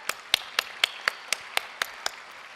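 Faint, evenly spaced hand claps ring out in a steady rhythm, roughly four per second, with about ten crisp strikes and quiet gaps between them.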